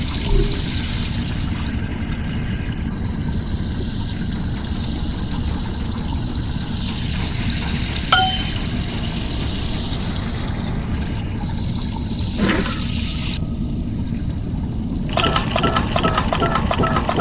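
Water drains steadily from an escape pod in the puzzle game I Expect You To Die, a continuous rushing gurgle with a low rumble beneath, ending in a couple of faint clicks.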